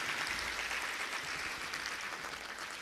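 Applause for the President of Tanzania at a large SADC parliamentary forum assembly, a dense, steady crowd clapping heard at a distance and sustained throughout with no breaks.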